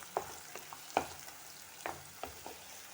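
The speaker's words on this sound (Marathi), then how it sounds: "तर आता हा माझा कांदा टोमॅटोची फोडणी व्यवस्थित शिजलेली आहे" Onion and tomato tempering cooks in a pan for a Malvani chicken masala, giving faint sizzling with several soft scraping stirs at irregular intervals, close by and with no voices.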